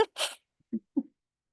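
A single sharp sneeze bursts out close by, followed by a couple of soft, low vocal sounds, then silence.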